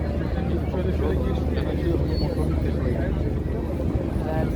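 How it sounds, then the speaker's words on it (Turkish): A low, steady helicopter rotor rumble fills the air throughout, loud and close, with people talking over it, at a SOLOTÜRK air show on the Maltepe seaside park shore. "helikopter geçiyor yakından"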